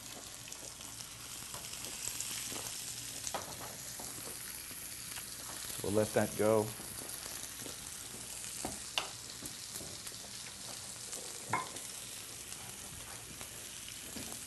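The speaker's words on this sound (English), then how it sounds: "And then we're gonna sear this fish. And that's the sound you wanna hear." Salmon fillet searing in olive oil in a hot pan gives a steady, close sizzle and crackle throughout, with a brief louder burst of spitting and a few sharp pops, while someone speaks briefly over it.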